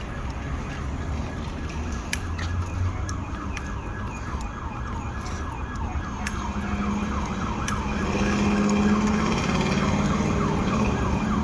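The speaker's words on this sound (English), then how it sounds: "Start hearing the sirens now." A police vehicle's wailing siren rising and falling steadily over low road rumble, fairly distant at first and swelling louder toward the end.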